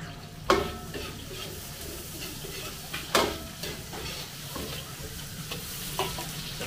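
Onions with star anise and bay leaves sautéing in a pan, a continuous close sizzle punctuated by sharp scraping strokes of a spatula at irregular intervals.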